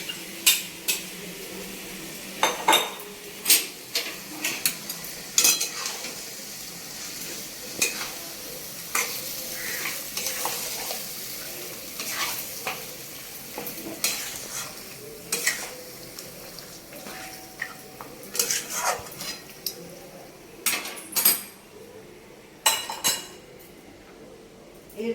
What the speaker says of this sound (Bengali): এইবারে মটনগুলো এর মধ্যে দিয়ে দিচ্ছি।